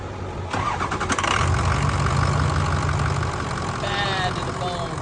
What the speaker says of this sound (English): I haven't heard this truck run in like 7 months